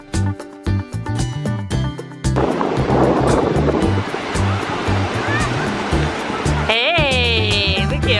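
Ocean surf at Laguna Beach rolls in as a broad, continuous wash of breaking waves, loud and close, with background music playing throughout.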